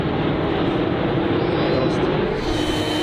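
A low-flying airplane passing over a lake, a loud, continuous broadband engine roar that stays near and steady for the full three seconds.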